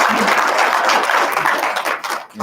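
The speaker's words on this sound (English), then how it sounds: "give everybody a big round of applause" Audience applause at a university State of the University address, a steady dense clapping that fills the whole moment and tapers off at the end.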